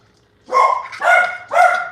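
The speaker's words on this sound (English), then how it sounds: "Oh, doggies, please stop barking." Three loud, sharp dog barks ring out close by in quick succession.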